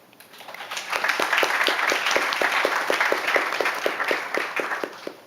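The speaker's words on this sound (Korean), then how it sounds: "한 분 한 분 박수로 맞이해 주시기 바랍니다." An audience at a national university debate competition final claps to welcome a judge. Individual sharp claps stand out, then swell into steady applause that holds for several seconds before tapering off.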